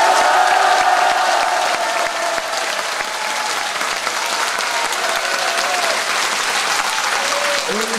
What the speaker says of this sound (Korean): 의의가 없으시면 큰 박수로 채택해 주십시오.